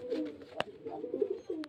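Pigeons kept for flying, a Bengal fancier's stock offered for sale, cooing in soft repeated low phrases close by, with a sharp click partway through and no talk.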